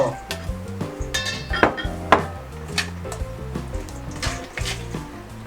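Shrimp and glass noodles go into a pan for a casserole-style dish, bringing clinks and knocks of utensils against the pan with light sizzling, over a steady background of soft music.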